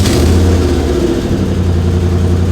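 A Toyota 1UZ V8 swapped into a Nissan S14 revs loud and close as it is given gas, a deep steady engine drone holding for a couple of seconds with a slight dip and rise in pitch.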